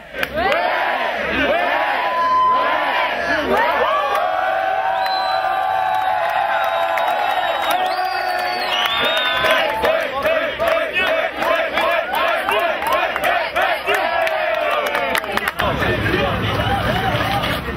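A crowd at an outdoor show cheers on young dancers, with lively whoops, shouts and constant babble rolling on throughout, loud and close, before the noise drops away near the end.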